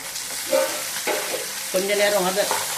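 Chopped tomatoes and onions with browned vadagam sauté in oil in a pan for a brinjal and dry fish curry, giving a steady close sizzle broken by a few scraping stirs, with no voices.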